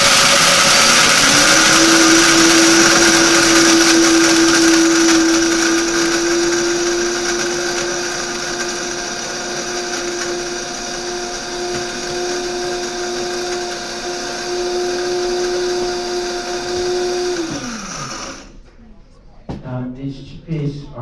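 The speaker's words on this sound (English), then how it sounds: "These chickpeas are harder than the other grains, so it takes a little longer to grind it." A blender grinds hard chickpeas into flour with a loud, steady motor whine that holds for about seventeen seconds, then winds down into rattling, scraping sounds as it stops.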